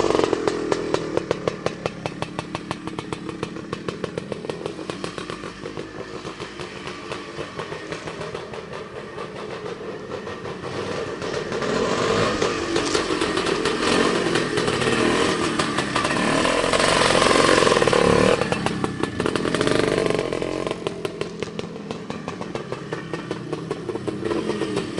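A 1974 CZ250 motocross motorcycle engine idles and putters at slow speed, a steady close rumbling burble that swells a little midway and then settles back, with no voices.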